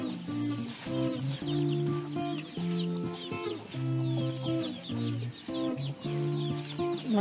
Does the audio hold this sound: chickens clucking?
yes